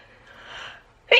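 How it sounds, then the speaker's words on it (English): A single sudden sneeze bursts out near the end after a brief breathy intake, close and loud, from a woman in a makeup review setting. "I'm going to sneeze."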